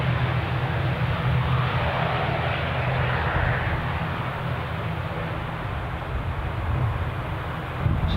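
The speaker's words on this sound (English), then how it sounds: "our incoming British Airways arrival" A British Airways airliner arriving at Newcastle Airport makes a steady, broad jet roar with a low engine hum. It holds at a fairly constant loudness throughout, with some wind noise and no talking.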